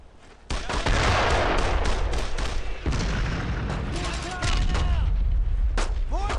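Mortar blasts and rapid gunfire fill a World War II battle against German paratroopers in the Brothers in Arms shooter game: dense overlapping shots and heavy booms roll continuously, with shouted voices mixed into the din.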